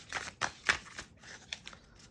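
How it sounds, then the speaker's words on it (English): Tarot cards shuffled by hand in a quiet room, giving a run of soft, crisp riffling slaps and papery flutters, several sharp bursts close by and alone with no talk. "Gotta shuffle it till it feels right"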